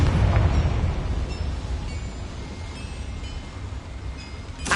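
A deep, rumbling blast from a Confringo fire spell in Hogwarts Legacy, heavy low booming that decays into a sustained roar, loud and continuous with no talking.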